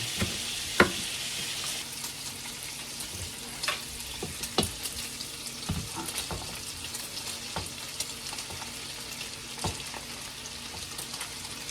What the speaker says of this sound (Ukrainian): прожарюємо сало, додаємо тоді цибулю